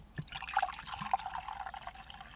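Hot water poured for tea in a cold hand-dug war tunnel, a soft close trickle with little drips and splashes, quiet and continuous for a couple of seconds.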